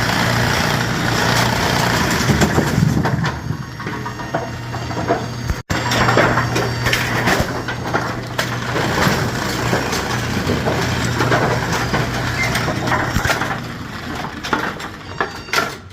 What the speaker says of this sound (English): This is probably one of the loudest gearbox clutches I've ever heard.